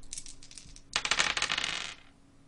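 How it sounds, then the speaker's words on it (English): Dice themed after PC hardware rattle and clatter across a hard surface in a bright, rapid burst of hard clicks lasting about a second, close and fairly quiet, with no talking. "I'm rolling my PC dice"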